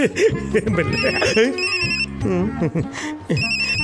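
A telephone ringtone plays in a short repeating melodic pattern of bright tones, heard under and between people talking in a comedy scene.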